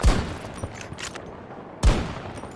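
Sniper rifle shots ring out in Battlefield 2042: two loud, sharp cracks about two seconds apart, each trailing a reverberant tail, with faint scattered pops of distant gunfire between them.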